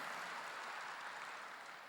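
Steady, dense applause from a large congregation at a Korean church worship service, continuous throughout with no voices.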